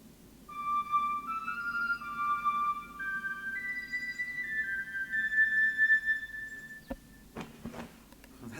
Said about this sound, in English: It's a bone whistle.